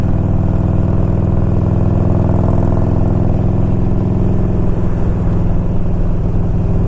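A 1992 Harley Davidson Electra Glide Sport with a freshly tuned carburetor runs steadily close by, a loud, continuous low engine throb with a rhythmic lumpy pulse and no talking over it.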